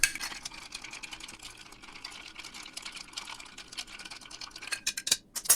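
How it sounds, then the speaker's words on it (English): A rum cocktail with dry vermouth being stirred over ice in a mixing glass, a steady close clinking and rattling of ice that grows louder and choppier near the end. "Add some ice and give it a stir."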